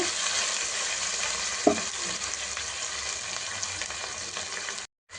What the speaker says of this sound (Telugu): హాఫ్ స్పూను అల్లం వెల్లుల్లి పేస్ట్ అవి చక్కగా ఫ్రై అయిపోయాయి